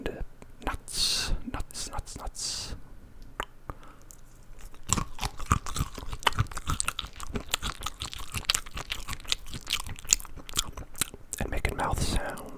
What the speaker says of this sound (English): We're eating a lot of crunchy carrots and celery and nuts.